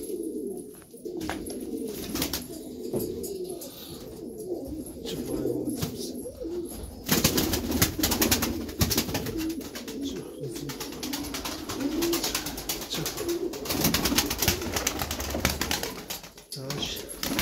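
Takla tumbler pigeons coo in their coop, a soft continuous murmur that grows busier partway through, with rustling and occasional wing flaps; someone speaks at times over it.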